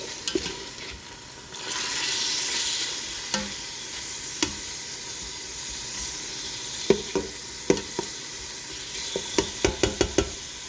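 Thin slices of steak for a Philly cheesesteak fry in a hot pan with a steady close sizzle, broken by a string of sharp spatula knocks and scrapes that grow more frequent toward the end.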